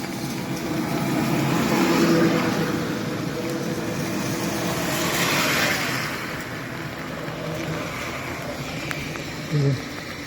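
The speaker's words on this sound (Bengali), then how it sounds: "সবগুলো অটো আসতেছে।" Auto rickshaws driving along a waterlogged road in heavy rain, their engines humming past amid a constant wash of rainfall and splashing water, with a voice talking over them.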